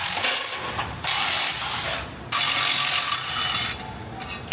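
A ratchet with a 15 mm socket works loose the bolts on fuel tank bumper shields under a Ford Super Duty pickup, bursts of rapid clicking separated by short pauses, close and fairly loud.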